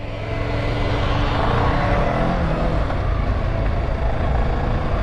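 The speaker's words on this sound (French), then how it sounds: "Un petit peu de moteur, là je tourne la poignée de même pas 1 cm." A Yamaha R6 600cc motorcycle engine runs with only a slight twist of the throttle, a steady, loud, low rumble that holds evenly for about five seconds without any talk.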